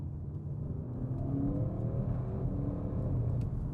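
A V8 GT sports car, fitted with filters for emissions rules, revs under acceleration as a steady, moderately loud engine drone that builds slightly, with no one talking.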